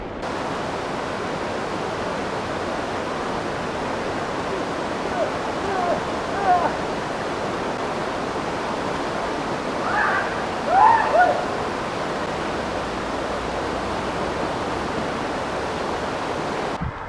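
Freezing alpine snowmelt water running steadily into a fountain trough in a sleepy Swiss town, a constant close, broadband rush with brief splashes and a voice speaking over it.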